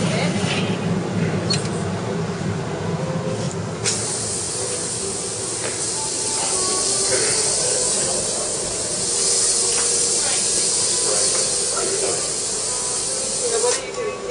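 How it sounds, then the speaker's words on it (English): Liquid tin sprayed onto glazed pottery in a studio, a sustained airy hiss that swells and fades in bursts over a background rumble, with brief clicks between passes. "I'm spraying that with a liquid tin."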